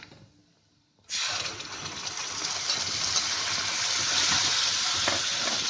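After a quiet second, a loud, steady sizzling rush starts as spinach puree gravy is stirred in a hot pan, bubbling and frying continuously and close by without talk.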